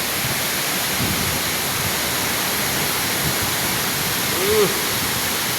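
Heavy downpour floods the ground around a mosque, a loud, dense and unbroken roar of rushing water and rain with no pauses, heard up close.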